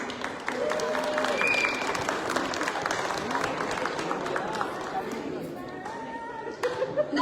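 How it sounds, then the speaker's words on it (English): Applause from a crowd at a Dhamma Chakra Pravartan Din celebration, with sustained clapping at moderate distance, gradually thinning, with chatter and faint voices mixed in. "Let's celebrate their efforts, talent, and hard work with a big round of applause."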